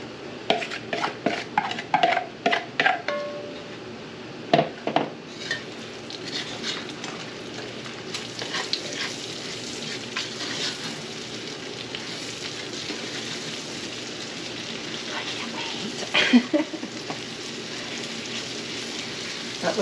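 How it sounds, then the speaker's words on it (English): Diced sweet onions sauté in a pan for bacon jam, opening with a run of sharp utensil clatters and scrapes, then settling into a steady moderate sizzle with occasional stirring knocks. "next we are to add the onions and saute for about 5 minutes"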